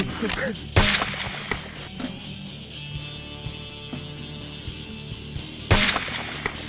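Two sharp, loud rifle shots ring out several seconds apart during a bull moose hunt in the Yukon, each a sudden crack with a short echo, over quiet outdoor ambience and faint low voices.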